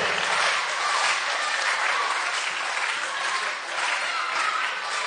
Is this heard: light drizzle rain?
no